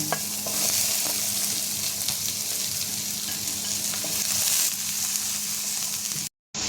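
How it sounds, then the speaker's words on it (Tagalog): Ginger and garlic sautéing in a pan, a steady close sizzle with light stirring scrapes throughout and no talk. "Then, sautein natin mauna ang ating ginger. And then, garlic."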